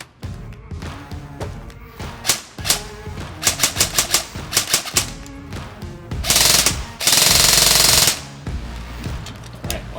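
KWA T6 airsoft rifle on an 11.1V battery fires a few crisp single shots, then a quick run of rapid semi-auto shots, and ends with two loud sustained full-auto bursts, close and alone.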